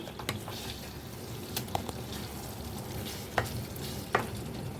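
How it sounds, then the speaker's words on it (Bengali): Garam masala and ghee get stirred into hot sesame-paste catla fish gravy, a low bubbling sizzle in the pan punctuated by a few distinct spoon scrapes and clinks, close up and without talking. "এই গরম মশলাটাকে আর ঘিটাকে খুব ভালো করে এই গ্রেভির সাথে একটু মিশিয়ে নেবো"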